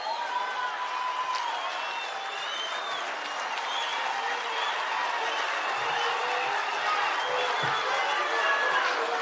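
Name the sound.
conference crowd applauding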